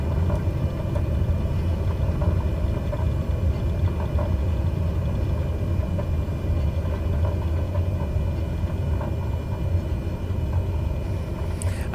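A small light aircraft rolls out along the runway after touchdown, its engine pulled back to idle during gentle braking. The result is a continuous loud, low rumble with a steady engine drone and no voices.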